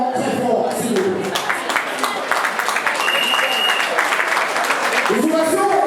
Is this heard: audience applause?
yes